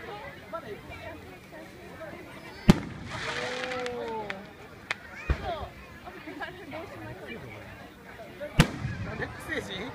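Fireworks at a local summer festival in Japan, with sharp bangs and crackling bursts at intervals over a steady crowd murmur, and people chatter nearby throughout.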